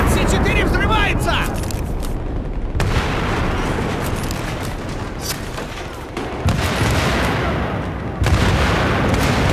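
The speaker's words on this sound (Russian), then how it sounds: "С4 взрывается!" C4 explosive detonating in the video game Battlefield 3, heavy booming blasts and gunfire crashing loudly amid continuous battlefield noise, with in-game voices shouting over the chaos.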